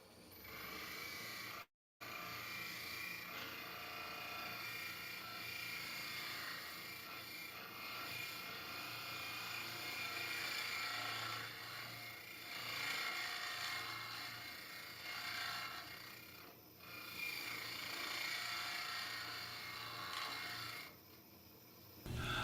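A mini hollowing tool cuts into a small wood piece spinning on a lathe, made for little work like Christmas ornaments, giving a steady close scraping and rasping hiss that runs almost unbroken, with one brief dropout near the start.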